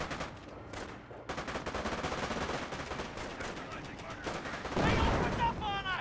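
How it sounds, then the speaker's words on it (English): A mortar strike lands in the World War II strategy game Company of Heroes, a heavy burst with lingering rumble amid steady crackling small-arms fire, with game voices chattering briefly near the end. "Decent mortar hit there."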